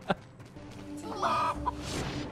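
A cartoonish chicken in a video game clucks in short, throaty bursts, with a sharp squawk near the start and a brighter cluck cluster midway, sitting close and moderately loud over a busy game soundscape.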